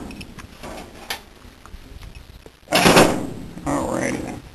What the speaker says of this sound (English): Temporary door latch.